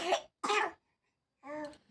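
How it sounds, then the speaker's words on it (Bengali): A young girl who is ill gives three short, close coughs with brief pauses between them, the last one a little longer and rougher. "আর মেয়েটা কাশতেছে"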